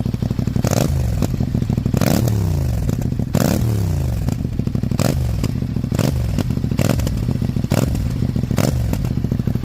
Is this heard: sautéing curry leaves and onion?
no